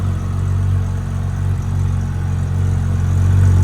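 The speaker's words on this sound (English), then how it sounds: "You hear the transmission working, this razzly noise." A close, steady mechanical whir with a raspy, rattling edge from the manual transmission of a Porsche 997.1 GT3 runs over the low hum of its engine, with no talking.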